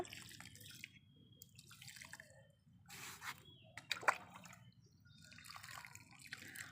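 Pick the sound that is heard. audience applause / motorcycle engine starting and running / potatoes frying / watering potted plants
watering potted plants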